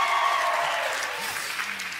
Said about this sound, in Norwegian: For stor applaus fra hele vennegjengen og fansen og alt.